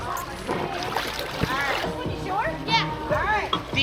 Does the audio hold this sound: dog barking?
no